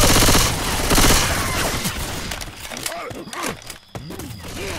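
Gunfire in the zombie shooter Left 4 Dead 2: dense bursts of shots fill the start, then the firing thins into scattered cracks and reload clatter while voices call out in between.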